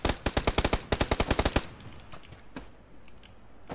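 Rapid bursts of automatic gunfire in an online squad shooter match, around fifteen sharp evenly spaced shots over a second and a half, then quieter scattered distant shots and rustling.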